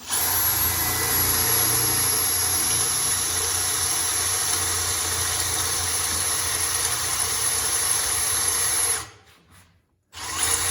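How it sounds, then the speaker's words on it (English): A power drill runs steadily for about nine seconds with a loud continuous whine, then cuts out abruptly, followed by a brief pause and a short restart. "You're gonna drill a hole."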